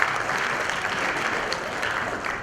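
An audience at the Glocal Teen Hero 2016 event gives a finalist a big round of applause, a dense continuous clapping that stays even and fairly loud from start to finish.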